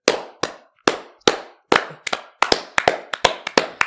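A close, crisp round of hand clapping: a dozen or so sharp claps, slow and spaced at first, then quickening into a tighter rhythm, each one loud and dry, with no voices.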